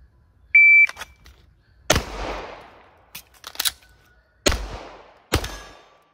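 Sharp pistol shots from a Tisas 1911 Night Stalker crack out, three or four loud reports with echoing tails, a timer beep at the start and metallic reload clatter between shots.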